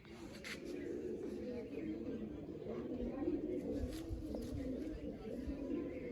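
Large pigeons, black-headed Kalsira breed with red, black and white markings, cooing in low, continuous murmurs close by, with someone talking over them throughout.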